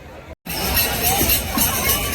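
A crowd at Brahmakund, Har Ki Pauri in Haridwar during the Mahashivratri festival makes a dense murmur of many voices and movement. The sound cuts out briefly at the start, then returns as a steady, loud hubbub.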